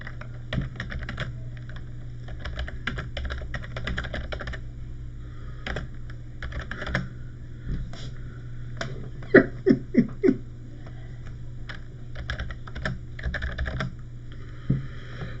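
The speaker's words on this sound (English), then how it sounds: "Type the transcript." Keys clatter on a computer keyboard in irregular bursts over a steady low hum, with a few sharper, louder taps near the middle.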